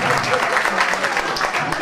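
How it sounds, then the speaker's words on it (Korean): Guests clapping at a first birthday party in a Pohang wedding hall, a dense, even burst of applause lasting under two seconds with murmured voices underneath. "박수 한번 부탁드리겠습니다"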